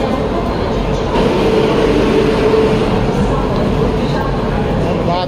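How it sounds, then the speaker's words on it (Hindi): A train pulls out of the platform at Hatia railway station in Ranchi, Jharkhand, giving a steady, loud rolling rumble that continues throughout while people talk nearby. "ट्रेन निकल रही है अभी"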